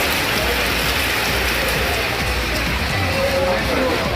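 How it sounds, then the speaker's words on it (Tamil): Heavy rain pours down around Kodaikanal, a dense, constant hiss of drops striking surfaces with no let-up. "கொடைக்கானல் மற்றும் அதன் சுற்றுவட்டார பகுதிகளில் சுமார் 1 மணி நேரம் கனமழை பெய்தது"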